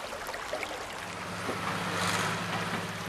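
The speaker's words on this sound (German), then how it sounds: "Ja, da muss das Wasser dann drüber, das sprudelt und schäumt" Stream water bubbling and foaming as it spills over a small weir step in a meadow brook, a constant close splashing wash with some wind noise.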